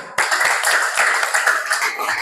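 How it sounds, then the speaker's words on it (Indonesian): Students in a classroom clap together after being told to sit, a quick burst of close, sharp handclaps that starts suddenly and settles into a loose, rhythmic patter. "Beri tepuk tangan"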